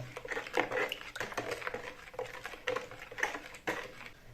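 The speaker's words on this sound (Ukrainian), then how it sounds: "тепер це все розмішуємо до розставання цукру, солі і дріжджів" A utensil scrapes and clinks around a bowl in quick repeated strokes, stirring a yeast, sugar and salt mixture for dough, close up and fairly quiet.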